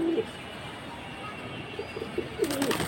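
A pair of high-flying pigeons coos softly at close range, with a few low, rounded calls spaced apart over faint background noise and a brief rustle near the end.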